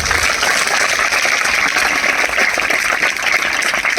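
A church congregation at a gospel healing meeting claps loudly and steadily, a dense, continuous wall of applause filling the space with no voices on top.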